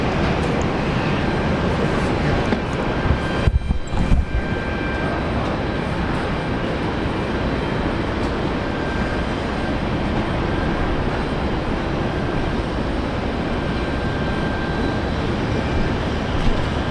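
Qantas airliner taking off at Brisbane Airport, a steady broadband roar of jet engines holding level throughout, with a brief louder rumble and clatter partway in, no voices.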